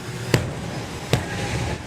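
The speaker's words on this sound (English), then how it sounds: "The pops and bangs will get louder." A drag racing car engine at a summer nationals meet lets out two sharp, loud pops spaced under a second apart, each a sudden bang over a low, steady rumble.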